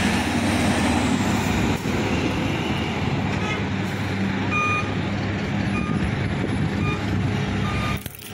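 Reversing beeps pulse at a steady rhythm over a loud, continuous engine rumble as a crane shifts a loaded truck tilted to one side, heavy roadside traffic noise throughout.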